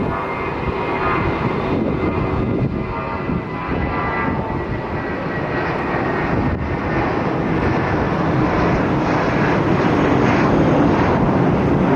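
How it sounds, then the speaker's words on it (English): A JetBlue Airbus A320 takes off with a loud, continuous engine roar that stays strong and slowly builds, heard up close from outdoors with some wind rumble. "The JetBlue A320 taking off."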